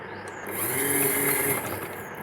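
A sewing machine runs a short continuous burst of stitching along a girl's boxy shirt seam, a close, even mechanical whir that swells briefly and holds steady.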